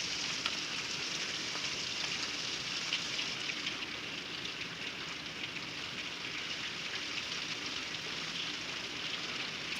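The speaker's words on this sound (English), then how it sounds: "Rain, can you hear it?" Steady summer afternoon rain in Florida, a continuous soft hiss of drops falling on surfaces, even and unbroken throughout with no voices.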